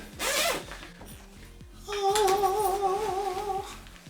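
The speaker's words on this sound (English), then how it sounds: "you have 2 big zips that go all the way down the side" A travel bag's long side zipper is pulled open in a few quick rasping strokes, close and fairly loud, with soft background music underneath.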